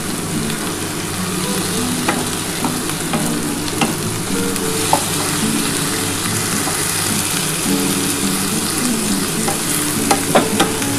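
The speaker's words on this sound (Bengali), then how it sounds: "এবার কাঁকরোলটার সাথে এই চিংড়ি মাছটাকে ভালো করে ভাজতে হবে।" Small prawns fry with spiny gourd (kakrol) in a pan, giving a dense, continuous close sizzle with scattered spatula taps and stirring throughout. No one speaks.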